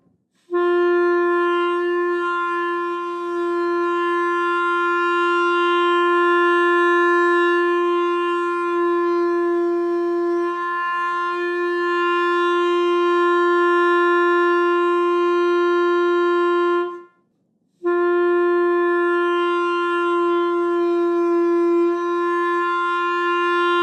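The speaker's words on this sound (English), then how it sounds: "playing an open G and experiment with changing the angle of the clarinet like this" A clarinet holds a single sustained open G for about twenty seconds, loud and close with rich even overtones and a slightly shifting tone as the instrument's angle changes, broken by one short gap for a breath before the note resumes.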